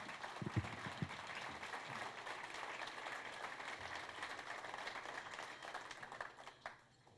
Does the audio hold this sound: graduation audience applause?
yes